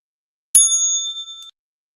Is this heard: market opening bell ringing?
yes